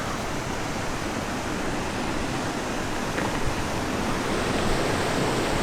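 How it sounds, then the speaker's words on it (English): A waterfall roaring as a steady, dense broadband rush, loud and continuous with no pauses. "Taking videos by waterfalls, probably not the best life choice."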